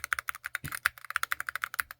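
Quick, evenly spaced keystrokes on a Chilkey Slice75 HE keyboard, crisp and close, with one slightly deeper thock partway through, no voices.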